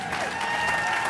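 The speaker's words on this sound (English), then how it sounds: "big round of applause. They did it." Audience applause for the organizers at a polo hall of fame induction ceremony, a brief burst of steady crowd clapping with a faint voice mixed in.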